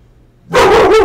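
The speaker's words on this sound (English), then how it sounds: "my dog's trying to notify me that there's somebody out front" A house dog barks once, loud and close, a sharp bark with a short whining tail, breaking into an otherwise quiet indoor room.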